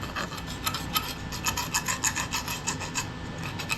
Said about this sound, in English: sand this down a little bit too to make it look a little bit better